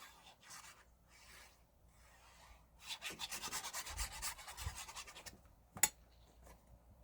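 Cardstock paper being cut for a stamping craft project: soft, close scraping and rasping strokes in uneven bursts, growing louder toward the middle, with a sharp snap near the end.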